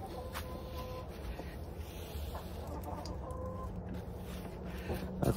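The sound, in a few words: chickens clucking at feeding time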